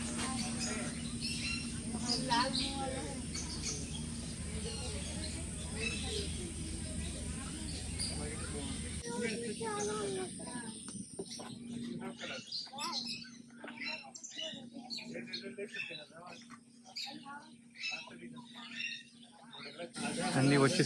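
Cockatiels and parrots in the bird section of Indira Gandhi Zoological Park, Visakhapatnam, chirp and squawk faintly and intermittently over a steady background hum, while someone talks over them.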